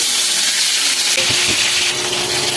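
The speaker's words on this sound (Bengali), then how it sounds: "তেল গরম হয়ে গেছে, মাছগুলো দিয়ে দিচ্ছি।" Fish laid into hot oil for a Bengali lunch fry give off a steady bright sizzle and hiss, loud and close, with a couple of soft knocks partway through.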